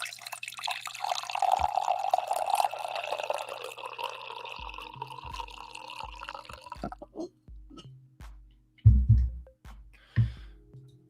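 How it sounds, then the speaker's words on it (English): Coffee pours into a cup as a steady liquid stream for several seconds, then breaks into a run of small drips and a few louder clinks near the end. "I think I have one more coffee pour in me as well."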